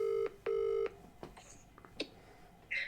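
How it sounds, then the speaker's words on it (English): Voicemail answers a mobile phone call with two clear mid-pitched electronic beeps, the second longer than the first, followed by faint clicks and a quieter tone. "Please leave your message after the tone."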